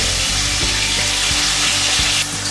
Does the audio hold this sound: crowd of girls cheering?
no